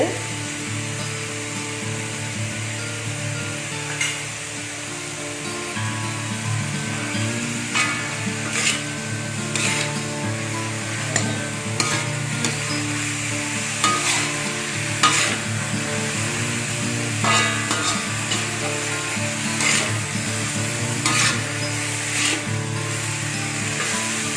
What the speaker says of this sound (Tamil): காய்கறிகள்லாம் போட்டு கொஞ்ச நேரம் நம்ம வேக விடுவோம்.